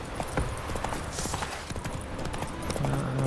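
Roach, the horse from the video game Witcher 3, clip-clops along at a steady rhythm for a few seconds. Hooves are moderately loud and close, set against faint ambient background.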